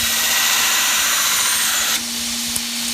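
A 1.5 horsepower variable-speed belt grinder grinds a knife with a loud, steady rasping hiss. The grinding lightens and changes character about two thirds of the way through, with no talking.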